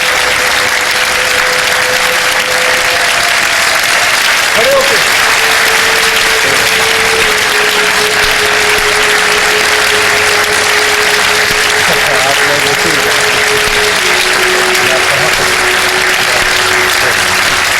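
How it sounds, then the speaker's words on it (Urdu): A studio audience on the Ramadan TV show Shan e Iftar welcomes a guest with loud, continuous applause that holds steady for the whole stretch, with a faint steady tone beneath it. "بھرپور تالیوں میں شکریہ اور استقبال کریں"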